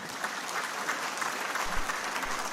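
A room full of people applauding, a steady even clatter of clapping at moderate volume with no voices on top.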